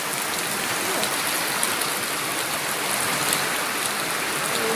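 Steady rain pours down in a dense, even hiss with faint patters, continuous and fairly close, with no voices.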